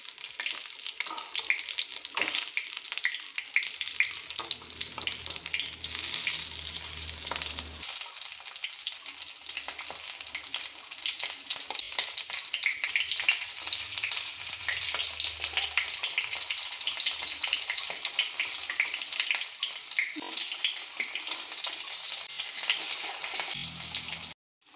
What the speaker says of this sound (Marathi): मातशी पळटा जाल्यार हांव परतून घेता।